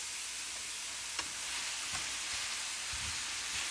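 Spiralized zucchini noodles dropped into a hot pan, giving a soft, steady sizzle with faint crackles and light stirring scrapes, fairly quiet and free of talk.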